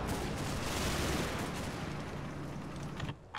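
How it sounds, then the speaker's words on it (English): Sustained rolling machine gun fire from a war video game, dense overlapping bursts at steady high volume that cut off abruptly near the end. "These guys are busy firing off all of their ammunition into that house."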